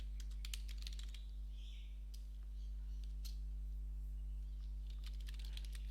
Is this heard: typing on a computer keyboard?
yes